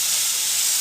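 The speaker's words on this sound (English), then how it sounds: "This is sauteing very well." Steak fajita meat sauteing in a hot pan, giving off a steady close hissing sizzle with no pauses.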